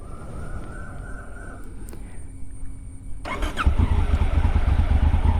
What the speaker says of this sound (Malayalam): ഓക്കെ, നമുക്ക് വണ്ടി സ്റ്റാർട്ട് ചെയ്യാം.